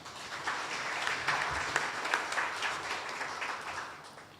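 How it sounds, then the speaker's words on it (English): Moderate applause from attendees at a regional community resilience conference follows the panel presentations, a steady mid-distance crowd clapping that rises and then slowly thins out. "Let's give them all a round of applause"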